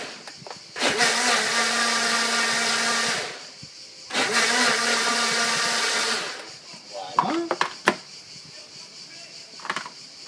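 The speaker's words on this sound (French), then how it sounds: "On mixe." A countertop blender whirs loudly through chestnut crêpe batter in two bursts of about two and a half seconds each, with a short pause between, then stops, followed by a few light clatters.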